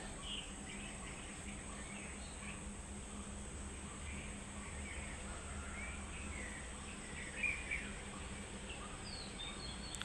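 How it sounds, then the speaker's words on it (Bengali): Birds chirp and call faintly on all sides in the early morning over a steady hum of insects and outdoor ambience, with one slightly louder call near the end. "চারিদিকে শুধু পাখির ডাক আর পাখির শব্দ শোনা যাচ্ছে"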